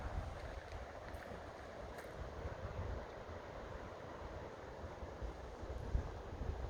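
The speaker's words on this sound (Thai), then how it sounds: "ได้ยินเสียง น้ำตกอยู่นะคะ" A waterfall in John Forrest National Park near Perth makes a steady, soft rushing wash, heard from a distance, even and unbroken, with faint low rumble and no voices.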